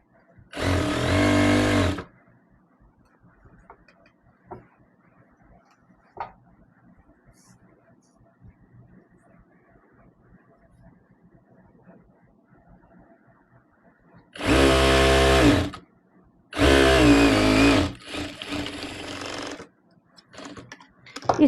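A domestic sewing machine stitches old saree fabric into a dress. Three loud, close, steady runs of rapid stitching are separated by long quiet stretches of faint handling noise.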